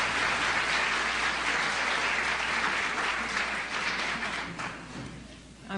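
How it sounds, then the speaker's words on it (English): Sustained applause from an audience at a 1975 Metropolitan Opera broadcast competition, greeting the regional director returning to the stage; a dense, steady wash of clapping that thins slightly toward the end. "You're hearing a round of applause for Mrs. Allen Oliphant, Regional Director, who has returned to the stage"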